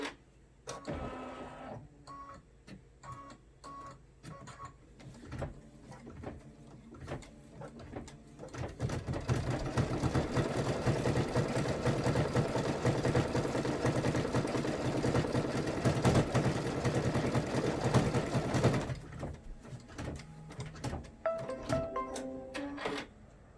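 Embroidery machine fitted with a 90/14 embroidery needle stitching a party hat, with a sustained rapid mechanical clatter in the middle and slower intermittent clunks and whirs at the start and end.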